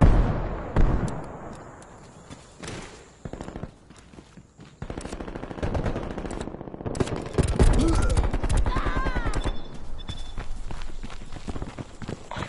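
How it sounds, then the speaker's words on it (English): Rapid automatic gunfire from a sentry turret in a zombies-mode video game, loud bursts crackling over dense battle noise, with scattered footsteps and clatter filling the background throughout. "Sentry turret active."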